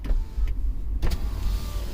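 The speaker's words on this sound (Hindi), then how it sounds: "विंडोज करना नीचे एक बार" Power windows of a 2020 Hyundai Creta lower with electric motor whirs, two short bursts then a longer steady whine, close up inside the parked car with no talking.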